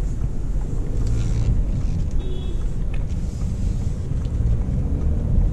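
Low, steady drone of an Audi A8L's 3.0L V6 diesel engine on the move, heard from inside the cabin with road and wind roar layered over the engine note at a constant level.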